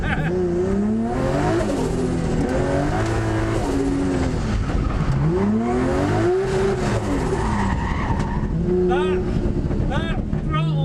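A 500bhp widebody BMW E46 drift car with a 1JZ engine, loud and close from inside, revving and shifting through repeated rising and falling engine sweeps across the whole run.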